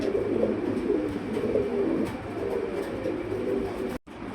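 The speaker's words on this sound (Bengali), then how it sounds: "পুতুল এটা আসলে পুতুল না এটা একটা কবুতর" Domestic pigeons at a pigeon-selling spot, including running-breed birds, coo in low, steady murmurs through the whole stretch, fairly close, with a constant busy background and a brief dropout near the end.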